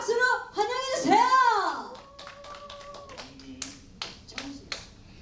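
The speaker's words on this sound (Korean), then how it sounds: "다시 한번 박수로 환영해 주세요." At a charity talent-donation concert at Bupyeong Arts Center, a voice speaks into a microphone before scattered claps from the audience break out, a handful of separate, fairly close hand claps welcoming a singer.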